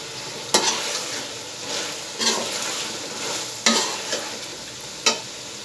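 Crushed red chili hits hot oil in a desi-style chicken karahi gravy, and the steady sizzle of frying holds throughout. Four sharp scraping stirs of a spoon stand out over the sizzle.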